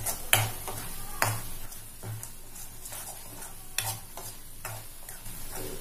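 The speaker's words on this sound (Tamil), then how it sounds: "எண்ணெய் பிரிகிற அளவுக்கு நல்லா வதக்குவோம்." Onions sauté in hot oil for an egg kulambu, a quiet steady sizzle broken by several sharp clinks of a spoon stirring against the pan, with no talk.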